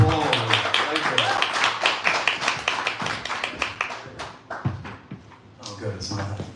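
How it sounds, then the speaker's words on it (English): A small audience at a poetry open mic night gives a brief round of clapping, scattered hand claps mixed with voices talking and cheering nearby. "Give me a quick applause"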